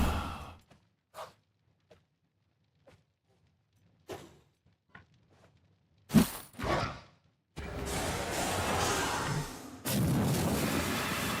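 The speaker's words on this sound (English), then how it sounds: "Let's come over here and throw a bomb here." A bomb is thrown in the Wartales video game, with scattered soft thuds and whooshes leading to a sharp blast, then a long roaring burst of noise, another brief whoosh and a second sustained rumble.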